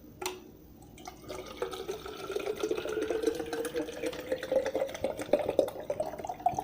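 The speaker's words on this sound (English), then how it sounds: "So what I do is I take the lid off and just pour this whole bottle" Bottled water poured into a container, a splashing stream whose pitch climbs steadily as the container fills, close and moderately loud with no talking.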